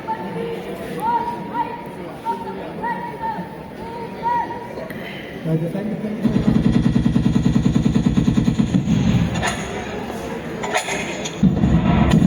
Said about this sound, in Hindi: राइफल नंबर 4, 5, 6 ने सपोर्टिंग फायर दी और एलएमजी ग्रुप असोल्ट ग्रुप के साथ आगे बढ़ा